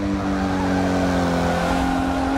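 Racing car cornering at the Nurburgring in Forza Motorsport 6, its engine a loud, steady, high-pitched drone that holds its tone throughout with a hint of tire squeal.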